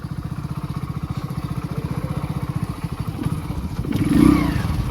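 A Hero Splendor motorcycle engine putters in a fast, even thumping rhythm close by, then swells briefly as it revs before settling again.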